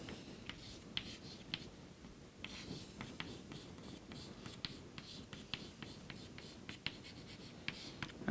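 Pen or chalk scratches out a math derivation in quick bursts of short strokes and taps, close and fairly faint, with brief pauses between marks.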